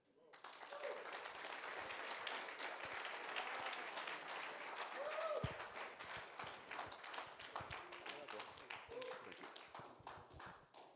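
A conference audience at a transport industry panel breaks into sustained applause, a dense wash of many hands clapping that swells, holds steadily for several seconds, then thins toward the end.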